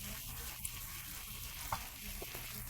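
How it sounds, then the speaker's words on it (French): Potatoes and tomato stirred gently in a single frying pan with seasoning, a steady low sizzle and frying hiss with a couple of faint utensil scrapes against the pan, close and quiet, no voices. "je vais mélanger doucement, juste pour bien répartir l'assaisonnement sur les pommes de terre et la tomate"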